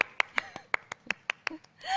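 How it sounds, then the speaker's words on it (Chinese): A few hands clap for Olympic athletes during a live Q&A, about ten sharp, uneven claps spread over two seconds, close and sparse rather than a full crowd. "让我们再一次为健儿鼓掌"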